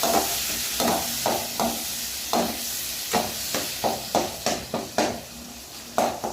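Chicken sautés in a hot pan to a continuous sizzle, broken by a rhythmic series of close scraping stirs from a utensil, roughly one or two each second.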